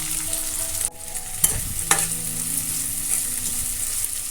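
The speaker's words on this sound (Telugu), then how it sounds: "తరిగిన 2 ఉల్లిపాయలు వేసుకుని వేయించుకోవాలి" Chopped onions dropped into hot oil already frying fenugreek seeds and cumin, with a steady close sizzle, a burst as they land, and a couple of stirring scrapes in the pan.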